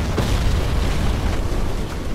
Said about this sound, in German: Mike! Schieß auf die Tunneleinfahrt und putz den Waggon weg!